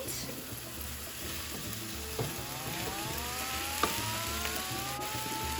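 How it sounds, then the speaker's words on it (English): Vegan taco meat and onions frying in a pan give a steady close sizzle, broken by a few scraping stirs and light clinks of a utensil, with no voices. "Now I'm gonna go ahead and I'm gonna throw in my taco meat."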